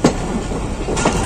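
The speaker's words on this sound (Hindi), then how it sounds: "तो गाड़ी हमारी स्लो मोशन में इंटर हो रही है" A train rolls slowly into Khanewal Junction railway station, with a loud, close rumble of wheels and carriages and a few soft clacks over the rails.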